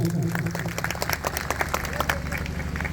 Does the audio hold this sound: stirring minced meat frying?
no